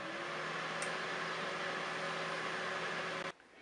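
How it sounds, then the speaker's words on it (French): A Cookeo multicooker runs while baking an apple tart at 180 degrees, giving a steady close hum with faint fan-like noise that holds evenly for about three seconds and then cuts out abruptly near the end. "je choisis mes 180 degrés, je rappuie une fois, je vais remettre 5 minutes. Je fais start"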